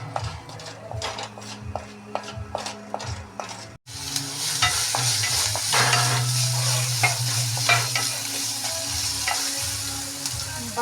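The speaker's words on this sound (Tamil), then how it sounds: "பஜ்ஜி மிளகா போட்டு ஒரு வதக்கியாச்சு" Bajji chillies sauté in hot oil with cumin, mustard seed, urad dal and onion, a steady close sizzle broken by repeated scrapes and clinks of a spoon stirring the pan, growing louder after a brief pause.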